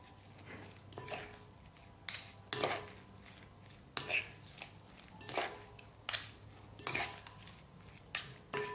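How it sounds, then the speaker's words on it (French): A knife chops shrimp into small pieces on a board, sounding as irregular sharp taps and knocks of blade on board, close and fairly quiet, with no voices. "une deuxième partie de crevettes que je coupe en petits morceaux"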